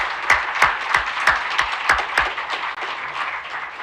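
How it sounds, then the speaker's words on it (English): Applause from an audience at an open house and ribbon cutting for an education center, a few strong, evenly spaced near claps over a softer steady patter of clapping. "let's give them all a good round of applause."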